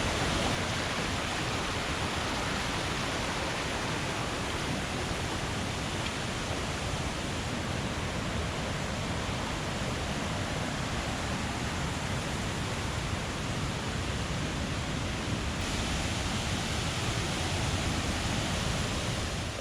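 Rushing stream current on the trail to Punnayar waterfall in Idukki, a loud, steady broadband roar of water that continues unbroken throughout, close by and alone.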